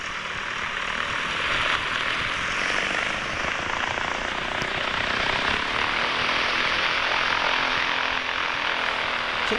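Continuous broadband aircraft engine drone of a plane taxiing toward a runway exit in the X-Plane 10 mobile flight simulator game, steady and loud throughout with no talking.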